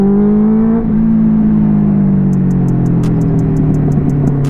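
Kawasaki Z900 superbike fitted with a custom exhaust, revving hard with a steady engine drone that shifts pitch, then a rapid run of sharp crackling pops from the exhaust near the end.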